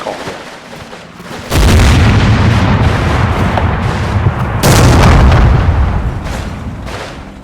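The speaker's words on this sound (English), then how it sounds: "a mortar barrage is called in" Mortar barrage in the Combat Mission wargame, falling on Russian infantry approaching a bridge: two heavy, close blasts land a few seconds apart, each followed by a long, rumbling roar that decays slowly.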